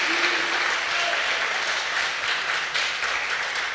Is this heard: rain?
no